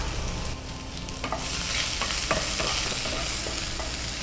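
Onion frying in a pan with green chilli for cabbage palya, a continuous sizzle with repeated spoon scrapes and taps as it is stirred, close and steady with no voices.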